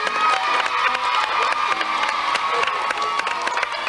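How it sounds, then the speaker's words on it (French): A studio audience of children on a Sunday children's television show claps and cheers, excited shouts and whoops rising over continuous applause, lively and close throughout. "On peut l'applaudir."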